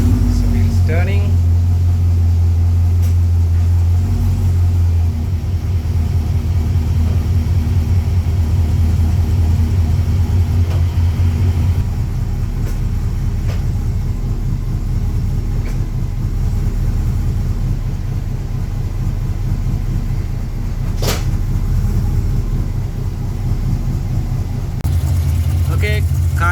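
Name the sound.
Holden Commodore VE SS car engine running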